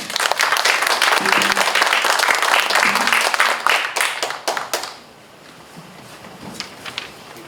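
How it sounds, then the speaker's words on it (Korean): A lecture audience gives sustained, dense applause welcoming an economics professor to a talk on basic income, loud for about four seconds before a few scattered claps trail off into quiet room noise. "박수 주세요."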